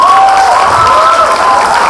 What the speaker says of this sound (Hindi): जोरदार तालियां इस बेहतरीन ग्रुप के लिए हो जाए एक बार।